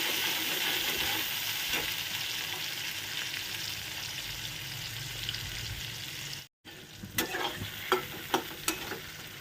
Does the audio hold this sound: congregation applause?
no